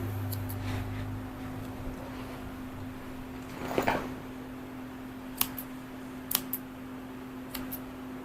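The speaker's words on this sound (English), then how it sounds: "I never learned to groom with thinning shears, and I like to use the scissors." Scissors snip the fur of a Shih Tzu at a groomer's, a few sharp metallic cuts spaced apart and close by, over a low steady hum in a quiet room.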